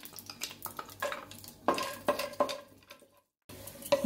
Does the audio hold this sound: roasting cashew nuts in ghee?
yes